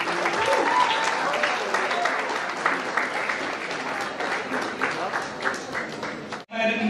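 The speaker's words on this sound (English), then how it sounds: "Please give a huge round of applause to sir." A launch event audience bursts into loud, sustained applause for a guest, dense clapping filling the hall for several seconds before cutting off abruptly near the end.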